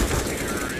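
Rapid automatic gunfire rattles in a shooter video game, a short, loud, dense burst of shots lasting under a second.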